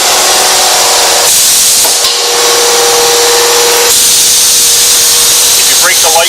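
A stamping press runs loudly and close in a shop, giving off a harsh broadband whir with shifts in pitch and level as it cycles.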